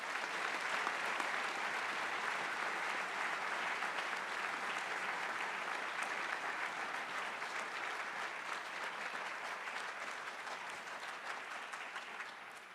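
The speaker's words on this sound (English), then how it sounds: "I hope you hear the round of applause the kind folks here in Fuller are about to give you" Steady round of applause from an audience of local townsfolk in Fuller, dense and sustained throughout, tapering slightly toward the end.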